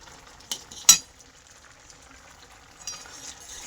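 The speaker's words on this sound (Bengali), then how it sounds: "তো এই দেখো রান্না করছি আমি ঘুগনি" A spoon stirs ghugni in a frying pan on a home stove, giving a couple of sharp metallic scrapes and clinks against a soft, steady sizzle, with quiet stretches between the knocks.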